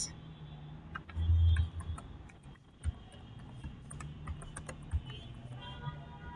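Light clicks of a computer keyboard being typed into accounting software, faint and sparse, with a few soft thumps over a quiet room hum.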